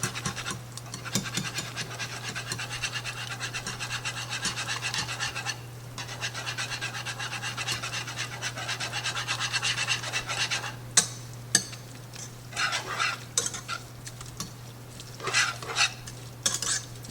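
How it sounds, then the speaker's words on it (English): A spoon scrapes and stirs flour into beef stock in a pan alongside cooked meat, with steady rhythmic scraping, a low background hum and a few sharper clinks near the end. "So I just kind of shooed the meat over here so I could stir this in"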